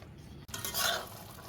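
A spice mixture with turmeric is stirred together with hot water in a cooking vessel for a Bengali chicken curry, giving a short close scrape and clink followed by brief wet swishing.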